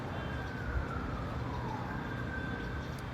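A faint ambulance siren wails in the distance over steady traffic rumble, its tone sliding slowly up and down.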